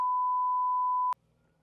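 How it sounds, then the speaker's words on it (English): A single steady electronic alarm beep, a pure tone held for about a second before cutting off abruptly, leaving quiet room noise. "Oh, there goes my alarm."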